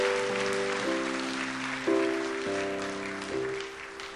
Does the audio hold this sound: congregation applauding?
yes